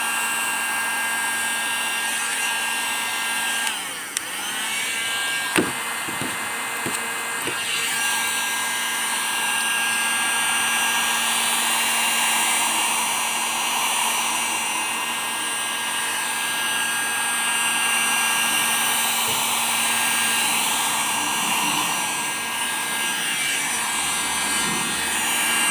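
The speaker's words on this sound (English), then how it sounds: "So I heat it with the heat gun." A heat gun blows hot air onto a custom steering wheel wrap, producing a steady loud whirring hiss throughout with a few brief knocks and handling clicks early on.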